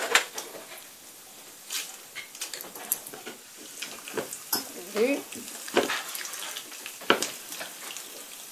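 Urad dal and chana dal fry in oil in a pan for a mint and coriander chutney, a steady close sizzle broken by spoon stirring and scraping, with soft bursts of crackle throughout.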